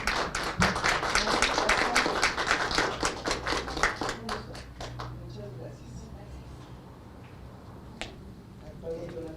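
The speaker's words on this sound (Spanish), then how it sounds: "si les damos un aplauso," An audience at a panel discussion on reproductive rights gives a short round of applause, with brisk clapping that fades after about five seconds, leaving room noise and faint talk.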